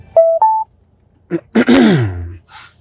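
Telephone tones on a live call-in devotional broadcast: two short electronic beeps at different pitches, then after a pause a burst of connection noise and a warbling, falling tone as the call comes through.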